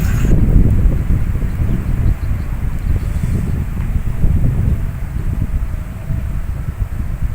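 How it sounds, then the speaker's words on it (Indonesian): Gusty wind blows across an open reservoir lake used as a fishing spot, a steady loud rush of air buffeting the microphone throughout with slight rises and falls, no voices. "Angin mulai berasa sepa-sepa sehingga terjadi air waduk mulai bergelombang sedikit karena hembusan angin."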